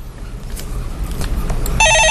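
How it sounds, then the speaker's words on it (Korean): A telephone rings loudly on a Korean stock-market call-in radio show, its bright electronic trill cutting in sharply near the end after a stretch of background studio noise. "예, 전화 받아보겠습니다."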